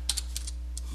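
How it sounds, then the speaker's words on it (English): Quick, light keystrokes on a computer keyboard, a handful of faint clicks over about a second against a steady low hum. "So that's what I'm going to type right there."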